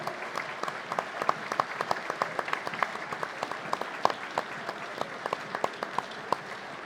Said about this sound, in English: On the bench for Hamilton, as Lee Kildare gets a round of applause.